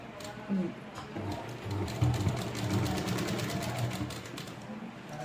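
A sewing machine stitches a Rajputi lehenga, its needle chattering in a steady, fast mechanical rhythm with closely spaced clicks. The whirring runs fairly loud and close for the whole stretch, broken by brief pauses, and no voice is heard.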